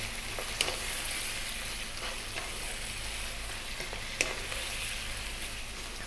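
Curry leaves, garlic ginger paste and fresh chili sizzle loudly and steadily in a hot pan, with a couple of sharp pops and a spatula scraping through the crackle.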